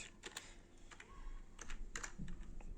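Numbers typed on a computer keyboard while setting a disk partition size during a Windows 11 installation on an AMD Ryzen 5 1600 PC: a few quick, close key taps over a low background hum.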